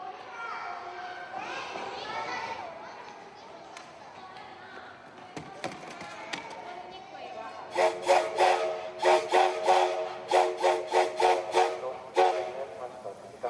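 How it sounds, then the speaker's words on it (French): Japan Rail West's D51-200 steam locomotive, a 1938 engine with four coupled axles, running with a steady rumble and then rhythmic chuffing exhaust beats, while children's voices and chatter carry on nearby. "Cette bruyante locomotive D51-200 à 4 essieux couplés date de 1938."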